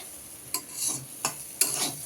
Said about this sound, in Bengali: ছোলা আলু সেদ্ধ করে পেঁয়াজ লঙ্কা দিয়ে যে ভাজতে বসিয়ে দিয়েছে